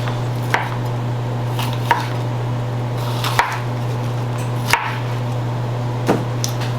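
Green peppers being chopped with a knife on a board, sharp single chops spaced about every second and a half over a steady low hum, with no talking.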